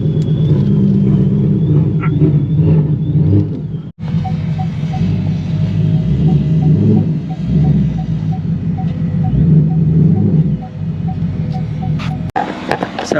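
Procharged Mustang idling and revving with its supercharger blower, a deep steady engine rumble with rises in revs and a faint whine riding above, close and loud.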